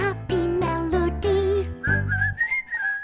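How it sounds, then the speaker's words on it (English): A melody is whistled in clear, sustained notes, steady and close, with a short pause before the tune slides higher toward the end. "whistling a happy melody."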